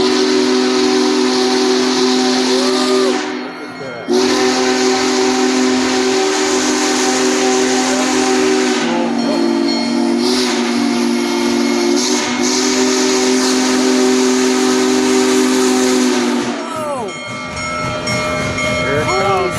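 Union Pacific Big Boy 4014 steam locomotive passing Rochelle, Illinois, sounding its steam whistle in long loud blasts with brief breaks, over continuous hissing steam and train rumble; voices are heard now and then.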